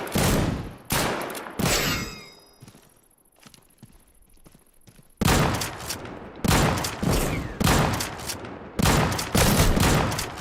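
Loud shotgun blasts and gunfire in the video game Deadside. Heavy shots come in clusters, then a quieter stretch with a ringing tone follows, and a regular series of booming shots closes the clip.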